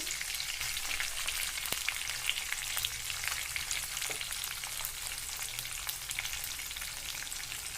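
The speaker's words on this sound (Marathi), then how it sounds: "जिरे आणि कढीपत्ता आपला फ्राय झाला त्यानंतर आपण टाकू मिरची शेंगदाणे" Green chilies and peanuts frying in oil with cumin and curry leaves for leftover-rice phodnicha bhaat, a dense steady sizzle with light crackles and a few stirring clicks, no talk.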